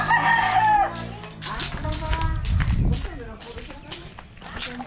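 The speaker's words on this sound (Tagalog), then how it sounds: "So pakita ko muna yung mga brood hen natin." Brood hens in a poultry yard, with a rooster crowing loudly up close and hens clucking and scratching about, while someone talks over them.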